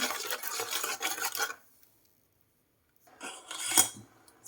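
Curry scraped and stirred with a metal utensil in a pot during Thai cooking of apple snail curry with betel leaves and cha-om, a few seconds of clattering scrapes, a silent pause, then more stirring and clinks.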